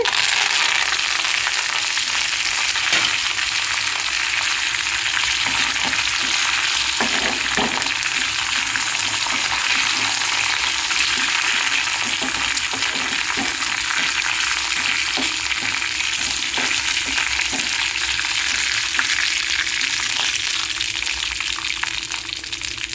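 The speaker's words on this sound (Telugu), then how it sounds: "ఇప్పుడు కరివేపాకు వేసుకోవాలండి." Curry leaves fry in hot oil as a tempering for mango roti pachadi, making a loud, continuous, close-up sizzling hiss with faint crackles that carries on without pause.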